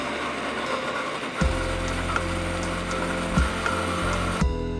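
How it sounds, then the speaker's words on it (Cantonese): An electric blender pureeing diced mango kicks on partway through, a loud low motor whir with rhythmic thumps as the fruit churns, after a quieter start, no speech. "將2/3嘅芒果粒倒入去攪拌機， 將佢哋打溶。"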